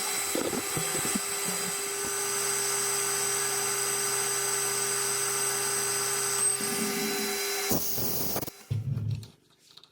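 A lathe cuts metal on a drive coupling part for a Servian radial arm drill, taking about 25 thou off the diameter. The machine hums and whines steadily and nearby for eight seconds, then winds down and stops, with no talking.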